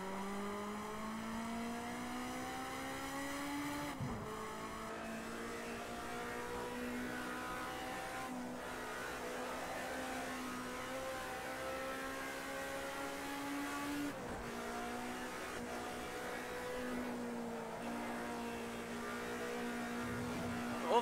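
A light, small racing car in a video game holds a loud, continuous engine whine that climbs through the revs and drops sharply at each gear change, repeating the pattern several times with no pause.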